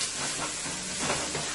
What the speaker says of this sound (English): I'm gonna let this saute for about a minute or two.